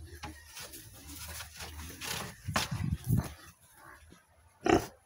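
Pigs in a dirty pigsty grunting and snorting close by in short, irregular bursts, with a louder squeal near the end; someone talks in Portuguese among the animal sounds.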